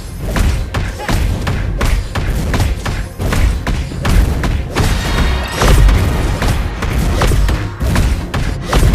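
Repeated heavy thuds and booms from a hero's kick attacks in the Mobile Legends video game, landing in a dense rapid series over constant loud game effects, with some speech-like game voices in the mix.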